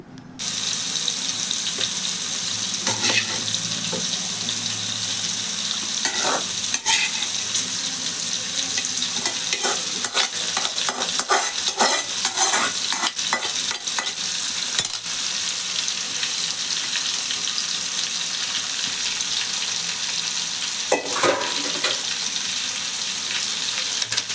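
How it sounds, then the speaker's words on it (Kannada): Cooked rice being stirred into fried egg in a hot pan for egg rice, steady sizzling with repeated scraping and stirring clatters, close and continuous. "ಉಡಿಯಾಗಿ ಮಾಡ್ಕೊಂಡಿರೋ ಅನ್ನನ ಆಮೇಲೆ ಮಿಕ್ಸ್ ಮಾಡ್ಕೊಳ್ಬೇಕು"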